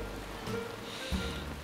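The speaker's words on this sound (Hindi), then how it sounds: "थोड़ी देर में बारिश रुक जाएगी" Rain falls steadily, a continuous soft patter heard at moderate level with a few low thumps and no voices.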